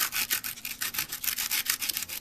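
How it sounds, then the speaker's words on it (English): Brisk back-and-forth rubbing of 150-grit sandpaper on a metal lens mount from a Nikon Nikkor 35mm f/2 lens, a dense rhythm of quick hissing strokes, close and alone. "I'll take a piece of sandpaper. In this case it's 150."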